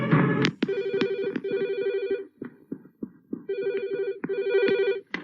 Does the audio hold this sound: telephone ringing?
yes